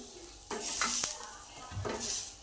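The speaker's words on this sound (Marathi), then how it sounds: "कांदा चांगला भाजतो ह्याला आणखीन आपण एखादं मिनिटभर भाजून घ्यायचं आहे" Onion fries in oil in a pan for a Marathi cashew curry, with short sizzling bursts and a few stirring scrapes, fairly quiet and close.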